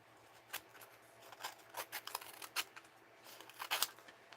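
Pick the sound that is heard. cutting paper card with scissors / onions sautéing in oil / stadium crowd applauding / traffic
cutting paper card with scissors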